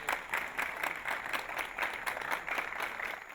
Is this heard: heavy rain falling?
no